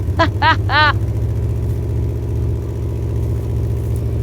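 A car engine with its throttle stuck open drones steadily at a high, sustained pitch, loud and close, while several brief voiced exclamations rise over it at the start.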